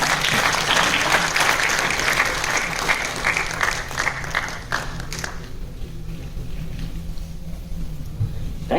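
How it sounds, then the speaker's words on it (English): An audience applauds a film team at a premiere, with dense, loud clapping that carries for about five seconds and then fades to a quieter hall. "a big round of applause to the entire team"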